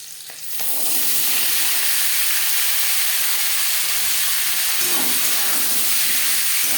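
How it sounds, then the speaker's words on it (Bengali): Green chillies and yard-long beans sizzle loudly in hot tempering oil, a dense, steady hiss that bursts up within the first second and holds unbroken to the end, with a faint stir midway. "ফোড়নের সাথে 20-25 সেকেন্ড কাঁচা লঙ্কা ভেজে নেওয়ার পর দিয়ে দেবো বরবটি।"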